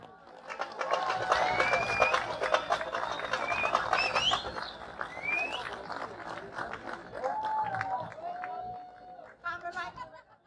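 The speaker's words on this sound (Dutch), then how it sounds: "applaus voor jullie zelf" An audience at a Freedom Tour talk in Apeldoorn claps steadily for about ten seconds, with cheering, whistles and crowd chatter mixed in, tapering near the end.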